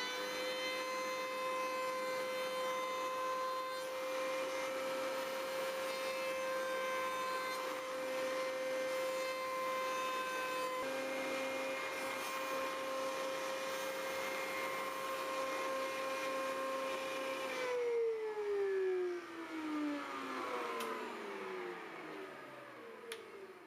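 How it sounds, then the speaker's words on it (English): A router table putting a beveled edge on a wooden sign, a sustained high whine running steadily for many seconds, then spinning down with a falling pitch as the cut ends and the motor stops. "Using a router table, I will now put a beveled edge on my sign."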